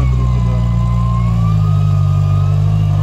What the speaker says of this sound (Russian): Посмотри, как новый мотор крутит у него.